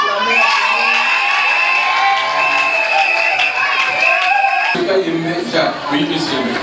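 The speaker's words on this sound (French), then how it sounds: "Acclamez." Guests in a wedding hall cheer, whoop and applaud loudly, a dense crowd roar that carries on after an official's prompt, with voices and shouts mixed in.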